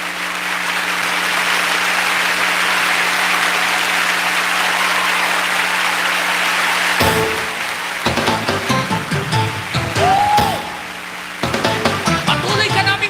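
A crowd at a Christian worship gathering claps loudly for God, a dense, sustained roar of applause lasting about seven seconds, followed by scattered claps, shouts and voices.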